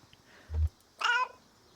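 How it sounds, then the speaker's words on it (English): An alert cat meow in the video game Kentucky Route Zero: one short, bright, clear meow just after a low thump, heard alone against near silence. "Alert meow."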